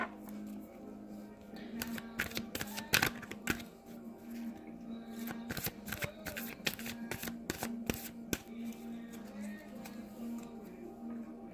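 Tarot cards from the Psychic Tarot for the Heart deck being handled and sorted into order, a run of soft, irregular slaps and rustles close by over a steady low hum, with faint talk in the background.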